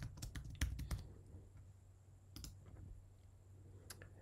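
Fingers typing a master password on a computer keyboard, a quick run of close, faint key clicks followed by a few scattered taps in a quiet room.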